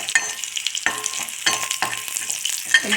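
Two green chillies frying in a pan for a black kavuni rice porridge, stirred in short scraping strokes about every half second over a bright, steady sizzle, close by and with no talk.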